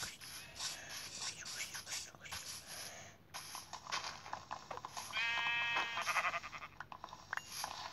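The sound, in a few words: sheep bleating in a video game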